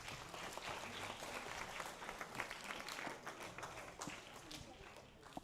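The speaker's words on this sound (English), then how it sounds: "let's give him a round of applause" Audience at a middle school assembly applauding: dense, continuous clapping at moderate distance, fairly faint and steady, tapering slightly at the end.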